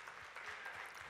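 A crowd applauds at a Telugu film pre-release event, a steady, fairly faint wash of clapping that holds evenly throughout the short moment.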